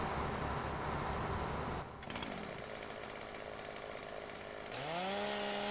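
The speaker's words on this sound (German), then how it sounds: "Eine so eine Kettensäge," A chainsaw in the Farming Simulator 17 forestry game, a close, loud buzzing drone that drops and shifts pitch midway, then revs up with a rising whine near the end.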